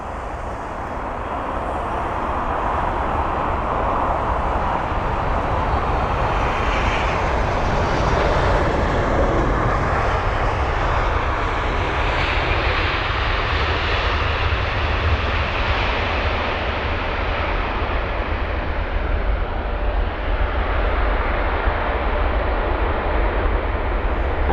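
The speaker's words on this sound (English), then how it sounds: "that was flight CA937, an Air China 777-300ER with the reg Bravo 2031, and that was the arrival from Beijing" An Air China Boeing 777-300ER arriving from Beijing lands at London Heathrow, its engine roar swelling into a loud, broad, steady rush that holds for a long stretch before slowly tapering.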